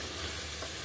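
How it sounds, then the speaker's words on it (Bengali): Prawns sauté in a pan with chopped garlic, ginger, onion, soy sauce, pepper and crushed green chilli, a brief faint steady sizzle. "রসুন কুচি, আদা কুচি, পেঁয়াজ, সয়া সস, গোলমরিচ গুঁড়া, কাঁচামরিচ ছেঁচা সব কিছু দিয়ে তাহলে একটু কষিয়ে নিচ্ছি চিংড়িটি"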